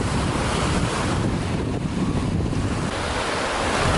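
Ocean surf washes continuously onto an Emerald Coast beach, a loud, broad roar mixed with gusty wind buffeting the microphone.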